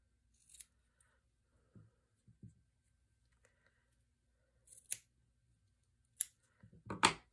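Scissors snip ribbon tails in a few separate crisp cuts spread out amid near silence, quiet and close, the last ones bunched together.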